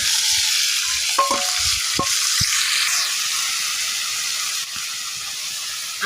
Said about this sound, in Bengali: এবার দিয়ে দেবো পরিমাণ মতো সোয়াবিন তেল আর ধুয়ে রাখা চিংড়ি মাছগুলো দিয়ে দেবো